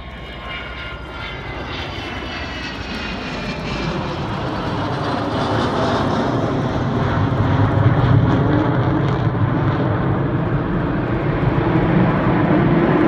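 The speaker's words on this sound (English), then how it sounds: "you may be hearing that roar of these wonderful Olympus engines" Avro Vulcan XH558 roaring overhead on its four Olympus jet engines during an air display at Shuttleworth, a loud continuous broadband rumble that swells gradually over the whole stretch, with no talk over it.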